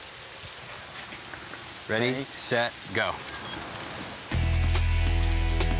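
Heavy rain pours down outdoors during a timed walking-versus-running test, a steady loud hiss that bursts in after a brief spoken countdown over quieter rain.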